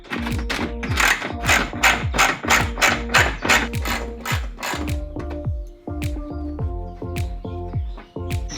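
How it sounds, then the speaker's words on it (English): A ratchet with a 10 mm socket turns self-tapping bolts out while a bumper is fitted, giving a fast run of close, sharp clicks followed by slower, spaced clicking. "we just use a 10 socket for these self-tipping bolts that are in here."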